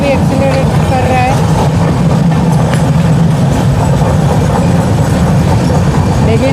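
Intercity express train running and accelerating, a loud continuous low rumble with rolling clatter heard from on board, steady throughout and briefly under a voice.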